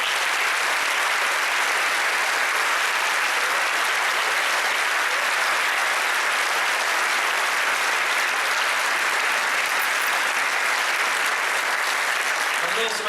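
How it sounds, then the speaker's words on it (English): A school presentation evening audience gives a final round of applause for student prize winners and performers, a dense, steady roar of clapping filling the room throughout. "Let's give them all just a final round of applause."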